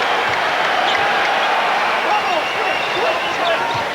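A basketball arena crowd gives off a continuous mid-level murmur at an NBA game between the Bulls and Cavaliers. Faint ball bounces and scattered sounds rise from the court.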